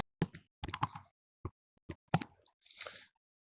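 Typing on a Russian keyboard, a sparse run of about ten separate key taps with uneven pauses between them, close and quiet, ending in a brief softer rustle, with no voices.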